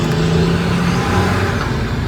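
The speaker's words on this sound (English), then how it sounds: "Sitting in traffic, and there are lots of big trucks, so sorry for the noise." Heavy road traffic with big trucks idling and rolling past, a steady loud low engine rumble and drone heard from inside a car throughout, with no talk.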